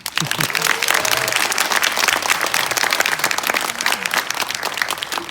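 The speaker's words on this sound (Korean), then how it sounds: "박수 부탁드립니다" A crowd at a Korean film preview screening claps enthusiastically, dense overlapping applause that holds steady and loud, with a few faint voices mixed in near the start.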